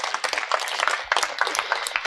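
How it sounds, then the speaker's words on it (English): Wedding guests applaud at a reception at Deer Park Villa, a dense, steady wash of clapping that swells and renews partway through, fairly close and continuous for a couple of seconds. "Big round of applause."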